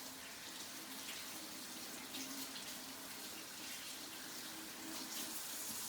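Water runs steadily from a tap during handwashing, a continuous, even hiss with light splashing throughout, fairly faint.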